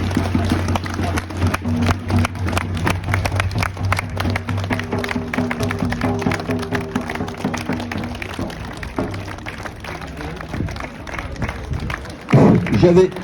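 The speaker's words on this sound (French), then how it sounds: "on va s'applaudir tous parce qu'on est tous unis dans ce combat" Protest crowd at a street demonstration in Valence applauding together, a steady dense patter of many hands under a low hum of amplified sound, with a louder thump near the end.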